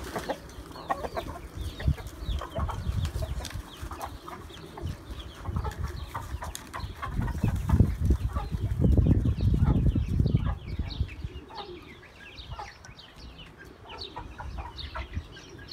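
A small flock of hens with their month-old chicks clucks and murmurs at close range, with soft overlapping clucks and brief scuffling and wing flutters, busier near the middle and quieter toward the end.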